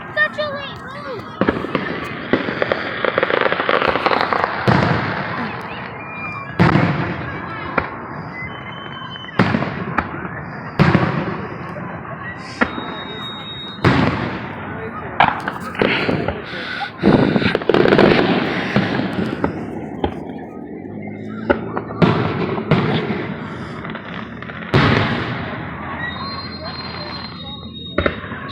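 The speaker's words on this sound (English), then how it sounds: "Fireworks, buddy." Fireworks bursting at a powwow at night, a long run of loud, sharp explosions and crackles every second or two, with people talking and exclaiming between the booms.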